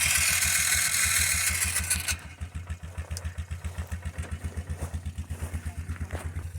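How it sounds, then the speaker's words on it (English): An ATV engine running close by, first a loud broadband roar that drops away, then a steady low idle with a fast regular pulsing throb carrying through to the end, no one speaking. "we've got an ATV with us, haul all our gear"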